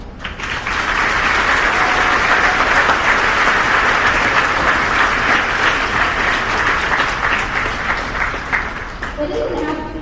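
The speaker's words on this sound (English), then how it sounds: "Please give these veterans our local heroes a round of applause." An audience at a school Veterans Day program applauds veterans with sustained, dense clapping that swells quickly and holds steady for about ten seconds before starting to thin out near the end.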